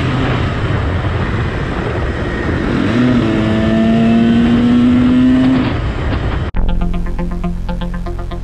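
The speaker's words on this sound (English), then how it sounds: "There was an angry old guy who was unhappy about the noise these bikers made" Dirt motorbikes ride along a forest trail, their engines droning loudly and close with a rising rev that holds for a few seconds, then an abrupt cut to a different, rougher engine roar.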